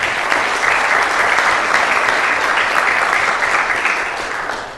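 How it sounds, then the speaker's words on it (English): An audience at a city council meeting claps for an elementary school boys and girls basketball team: sustained, loud, even applause that holds for several seconds, then begins to fade near the end. "So let's give them a round of applause as well."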